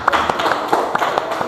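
A group claps hands in a classroom: scattered, uneven claps with sharp taps rising over a busy background, loud and close, for about a second and a half.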